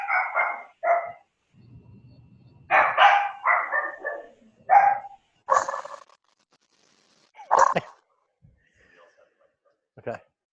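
Several dogs bark in short bursts, a run of sharp barks early on, then scattered single barks and a yip with quiet gaps between, close and fairly loud.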